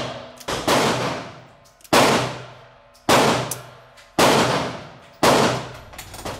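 Black powder rounds fired from an EMF Hartford 1872 Colt .45 Long Colt single-action revolver clone at a range, five loud sharp shots spaced about a second apart, each with a decaying echo tail.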